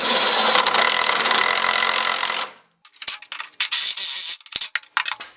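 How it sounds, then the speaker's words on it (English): A power driver whirs loudly while sinking a lag bolt into plywood, then stops, followed by short bursts of grinding and clattering tool noise. "I drive lag bolts most of the way into the holes"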